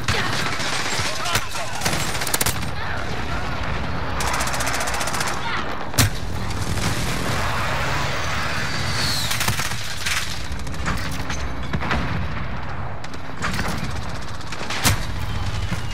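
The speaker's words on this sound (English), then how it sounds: "Enemy precision airstrike." Explosions from an enemy precision airstrike in a first-person shooter video game: a dense, continuous roar of blasts and gunfire, punctuated by a few sharper booms, with voices mixed in.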